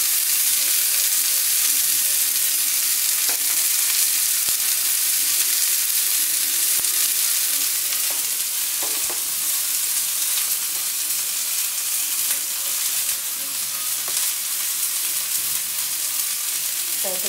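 Chopped okra sizzles and fries steadily in hot oil in a pan, a dense continuous crackle with occasional louder pops and stirring clatter, close and loud, with no talking.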